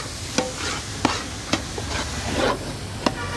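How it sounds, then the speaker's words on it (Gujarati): Green onions tossed into a sizzling pan of garlic, a continuous loud sizzle broken by regular sharp scrapes and taps of a spoon stirring roughly every half second. "આ લીલી ડુંગળી નાખીશું હવે આપણે।"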